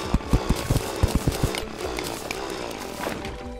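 Rapid mechanical drilling through blocks in the game Terraria, a buzzing, rattling burst with quick repeated pulses up front, then a steady churning grind, close and fairly loud with no talk.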